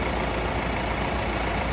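A 2016 Mitsubishi 2.4 litre DID common-rail diesel in a 4WD idles, a loud, close, continuous rumble that stays even and unbroken throughout.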